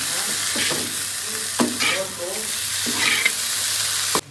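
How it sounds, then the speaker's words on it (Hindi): Curry (salan) being stirred in a pan after fresh coriander goes in, giving a continuous close sizzle broken by a few sharp scraping strokes of the spoon and ending with a final knock. "अभी ये ऊपर डालते हैं जी सब्ज़ धनिया, इसको अच्छी तरह मिक्स कर लेते हैं जी"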